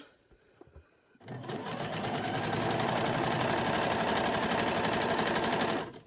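A sewing machine stitches trim onto the leg and cuff of doll pyjamas, starting after a few soft handling clicks and then running as a fast, steady, close mechanical whir for several seconds before stopping.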